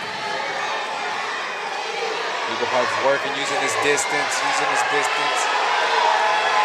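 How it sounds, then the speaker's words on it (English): A boxing crowd roars and whoops as a fighter presses his opponent against the ropes, a loud continuous swell of cheering beneath a commentator's fast talk. "You can hear the crowd getting extremely worked up"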